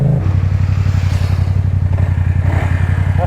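Yamaha MT-07 motorcycle fitted with an Akrapovic titanium exhaust, riding alongside an MT-125: a loud, steady, throbbing engine and exhaust note with a pulsing low rumble throughout, close and continuous, no talking.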